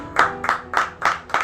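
A church congregation claps in rhythm during a Christian service, five evenly spaced loud group claps about a third of a second apart, with no voices over them.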